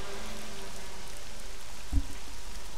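Rain falls in RollerCoaster Tycoon 3 as a constant soft hiss of drops spread evenly throughout, with a brief low thump near the end and no voices.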